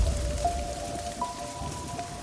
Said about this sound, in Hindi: रामलाल बारिश से बचने के लिए भीतर चला गया।